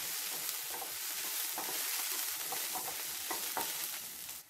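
Kashmiri chili powder and turmeric being stirred in a pan, with a soft sizzle and a few scraping strokes of a spoon, close and moderately quiet, no voices.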